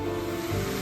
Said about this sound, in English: Stir the leeks. Add coconut.